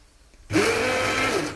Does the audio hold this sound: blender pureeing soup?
yes